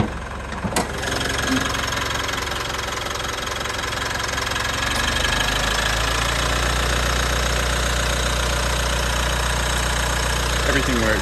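A 2017 Mitsubishi Triton GLS 4x4 with 151,000 km shows its engine idling steadily under the open bonnet, with a constant low rumble and a lighter mechanical clatter running through the whole stretch, close and fairly loud.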